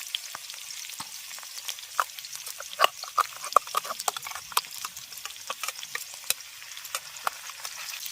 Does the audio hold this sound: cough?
no